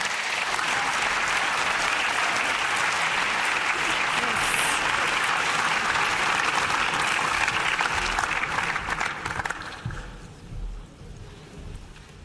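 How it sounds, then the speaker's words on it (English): A ceremony audience at the LUX film award gives guests on stage a warm round of applause, dense and loud for about nine seconds before thinning out and dying away. "Please give them a warm round of applause."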